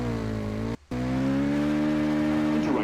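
A rally car engine in the WRC 10 video game revs hard with a rising harmonic drone, a brief cut-out near one second, then climbing pitch again with some tire noise toward the end, loud and without speech.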